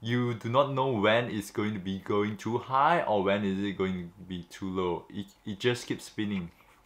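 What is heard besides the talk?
No everyday noises stand out.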